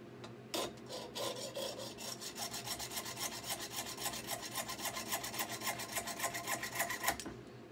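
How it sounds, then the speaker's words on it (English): A hacksaw cuts material for a homemade turkey pot call with a quick, even run of rasping back-and-forth strokes. The sawing is close and moderately loud and continues for several seconds without talk. "So now I'm going to get my hacksaw and cut that."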